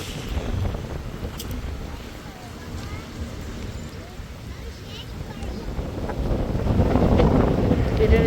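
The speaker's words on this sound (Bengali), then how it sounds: "কি পরিমাণ বাতাস" Strong wind buffets the microphone outdoors during a park outing, a steady low rumbling roar that swells louder toward the end, with no voices in the clip.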